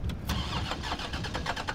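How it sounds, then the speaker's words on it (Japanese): A car engine in Resident Evil 3 cranking and failing to start, a short, continuous churning rumble with a rapid stuttering pulse. "あ、エンジンがかからないってやつ。"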